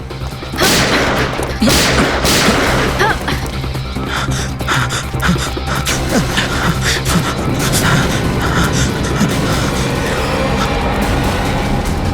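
Gunfire in a Bengali CID crime drama set during the Ganesh Chaturthi festival: loud sharp shots and crashing bursts ring out over a dense, continuous action-scene mix, with brief gasps, and no clear talk.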